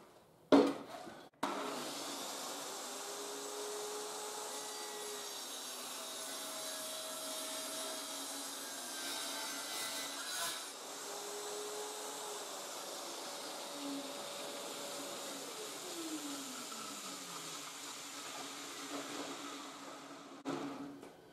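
A saw blade in a machine cuts out wooden plugs, making a steady whirring drone of about twenty seconds with shifting whine tones, starting and stopping with brief knocks.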